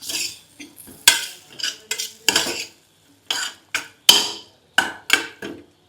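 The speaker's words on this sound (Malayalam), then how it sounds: "ഇനി കുറച്ച് ഗരം മസാല കൂടി ചേർക്കാം. നന്നായിട്ട് കുറച്ച് വഴറ്റി കൊടുക്കും." A utensil scrapes and knocks against a pan while mushroom masala spiced with garam masala is stirred and sautéed, a series of irregular sharp clatters and scrapes with brief pauses between strokes, close and clear.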